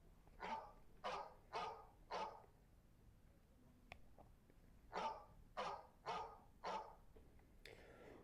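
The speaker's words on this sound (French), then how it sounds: "Je suppose qu'il y a déjà des gens qui se réveillent avec des aboiements de chiens." A played dog-barking sound effect gives two sets of four evenly spaced barks separated by a short quiet gap, fairly close and clear against low background noise.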